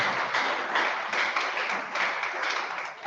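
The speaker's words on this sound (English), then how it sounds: "Put your hands together" Dense, continuous applause from an audience at a disability voting campaign gathering, loud and steady throughout with many hands blending into an even wash of sound.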